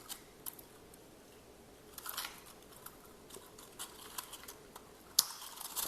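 Pruning shears snip through dry, dead Nepenthes pitcher stems, giving a few faint, sharp clicks and crunchy cuts scattered through a quiet recording.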